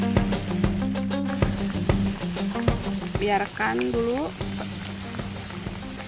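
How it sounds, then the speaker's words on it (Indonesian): Bakwan vegetable fritter batter sizzling in a wok of hot oil, a dense, crackling fry that continues steadily throughout, with someone speaking briefly over it and faint stirring noises. "Nah, waktunya menggoreng. Taruh adonannya di wajan."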